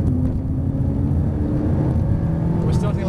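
A McLaren MP4 supercar pulls away on a race track, its engine a dense, steady roar that rises slightly in pitch as it accelerates, while a person speaks over it inside the car.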